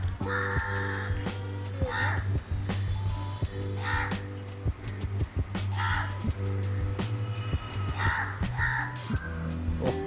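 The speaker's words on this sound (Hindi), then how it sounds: "कौवा भी बोल रहा है अभी" Crows caw repeatedly in short harsh bursts, several calls spaced a second or two apart, over a steady low hum.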